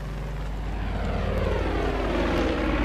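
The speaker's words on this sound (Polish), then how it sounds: "jak mnie wnerwia ten samolot" A propeller airplane drones overhead in the video game Far Cry 5, its engine a steady, loud buzzing hum that swells slightly as it passes, with no talking.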